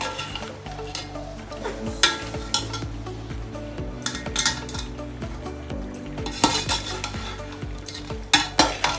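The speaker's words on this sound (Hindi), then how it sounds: "तो देखिए अच्छे से मिक्स हो रहे हैं हमारे मसाले।" Dry spices fry in a pan for chicken korma while being stirred, a continuous sizzle broken by repeated scraping and clinking of a spoon against the pan at close range.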